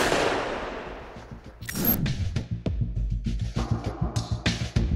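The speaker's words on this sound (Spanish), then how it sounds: "sin saber que de entre la multitud provendrían los dos disparos que terminaron con su vida" Gunshots ring out in a crowd at an outdoor political campaign rally: sharp, loud bangs, followed by a rapid series of repeated cracking pulses.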